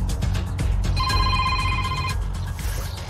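Telephone ringing after being called, a clear electronic ring tone sounding once for about a second, with muffled background noise before and after.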